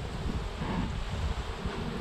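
Honey bees swarming around an opened hive during a fall check, a steady close buzzing hum with broadband flutter and some wind rumble, no talking.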